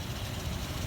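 A 2005 Ford Explorer Sport Trac sits idling nearby, giving a steady, low engine rumble with an even, unbroken drone and no voices over it.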